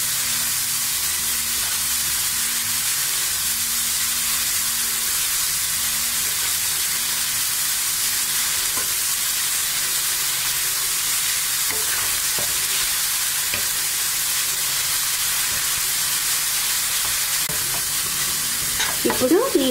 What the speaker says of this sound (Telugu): ఇప్పుడు ఈ క్యారెట్ని 2 నిమిషాల పాటు వేయించుకుంటే మనకి కలర్ చేంజ్ అనేది అవుతుంది.